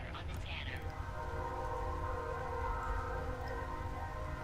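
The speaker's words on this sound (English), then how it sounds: "that train's gonna pick up in the recording" A passing train rumbles steadily with a sustained horn-like drone, moderately loud and continuous throughout, with a brief higher chirp at the start.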